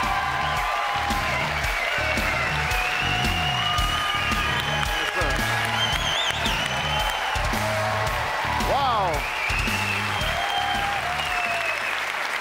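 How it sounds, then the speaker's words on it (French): A comedy show audience at Peter MacLeod's live performance in Laval applauds steadily, dense clapping with scattered whoops and cheers running the whole stretch while the performer's voice breaks in over it. "Puis elle regarde le monde, tout le monde applaudit"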